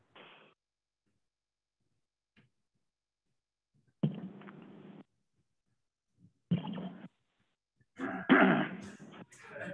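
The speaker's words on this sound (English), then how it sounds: "Let me clear my throat." In a quiet meeting room at a transportation advisory committee, a person clears their throat in a few short bursts separated by silence, the last one longer and rougher.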